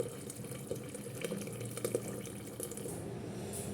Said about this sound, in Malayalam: വെള്ളം ഒഴിച്ച് കൊടുത്തിട്ടുണ്ട്.